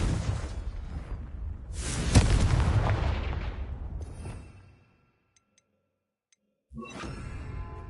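Confringo explosive spell blast in Hogwarts Legacy: a loud, booming burst with a rushing whoosh and a rumble that fades over a few seconds, then brief silence before more game sound resumes.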